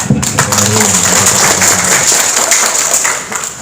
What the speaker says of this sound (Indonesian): Jadi ini aplaus luar biasa buat semua